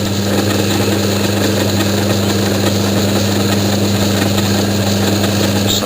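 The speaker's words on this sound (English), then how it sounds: "the initial machining with the end mill" Old lathe set up for milling, driving an end mill into metal: a loud, steady motor hum and mechanical drone with a constant low tone, running continuously and unchanged throughout, no voices.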